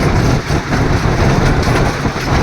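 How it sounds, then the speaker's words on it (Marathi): A mini railway train runs steadily past, a loud continuous rumble with faint rhythmic clatter filling the whole stretch, no voices. "ही मिनी रेल्वे आहे आणि या मिनी रेल्वेचा हा सगळा प्रसंग आहे."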